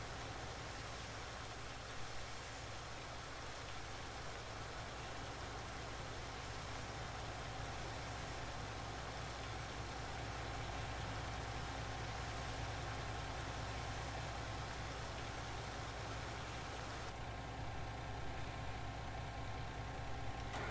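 A truck engine idles in the Landwirtschafts-Simulator 19 farming game, a steady low drone that stays faint and even for about twenty seconds.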